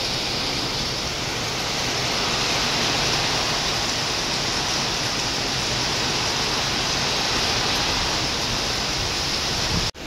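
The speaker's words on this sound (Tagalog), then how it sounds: "malakas pa rin ang hangin. May kasamang ulan." Strong typhoon wind and rain roar steadily as a loud, continuous broadband rush that never lets up, with no voices and no gaps, cutting out abruptly at the very end.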